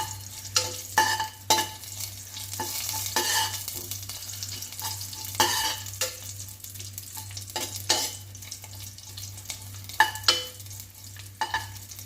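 Crushed garlic and dried red chillies fry in a hot pan, sizzling steadily throughout, with repeated stirring scrapes and clinks punctuating the sizzle close up; no one talks.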